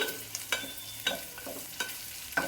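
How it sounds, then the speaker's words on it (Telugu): Spoon stirring crushed ginger and garlic frying in a pan, with soft sizzling under four or five distinct scraping strokes spaced about half a second apart, close and fairly quiet, no talking. "వేసుకొని పచ్చివాసన పోయినంత వరకు మిక్స్ చేసుకోవాలండి"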